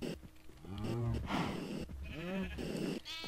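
Sheep bleating in the video game Minecraft, several wavering bleats in quick succession, close and fairly loud over a low background.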